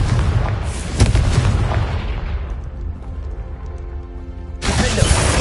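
Magical blasting-spell explosions in a fantasy video game near a castle: a loud deep boom near the start, a second blast about a second later with rumbling decay, then another sharp burst near the end.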